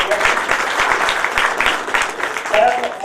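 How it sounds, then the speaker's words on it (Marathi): An audience at a Dream Foundation honouring ceremony breaks into loud, sustained applause, dense clapping filling the room for the whole stretch. "कॅक्टसच्या साठी पण एकदा जोरदार टाळ्या"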